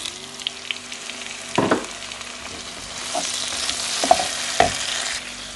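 Chopped tomatoes go into a pan of softened fried onions, bringing a low crackling sizzle with a few sharp stirring knocks and scrapes, fairly quiet and without speech.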